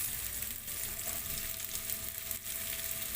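Carrots dropped into a pan of softened onions, frying with a steady, close sizzle and hiss that holds throughout, with faint stirring underneath and no talk.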